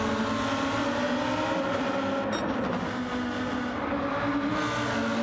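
Lamborghini Trophy race cars in a sim racing game at Deep Forest, heard as a continuous, loud, layered engine drone with rising and falling pitch as several cars run close together, plus a brief high squeal.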